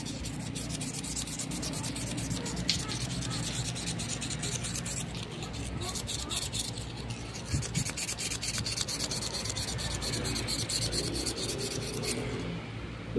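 Steady back-and-forth rubbing of fine sandpaper on a hard surface of a Panasonic stand fan to remove scratches, continuous close scratchy strokes with no talking.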